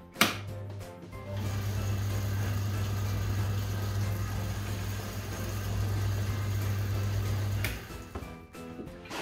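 Old reversible electric motor driving a drill through a belt, starting with a clunk, then a steady loud hum and whir for several seconds before switching off and winding down.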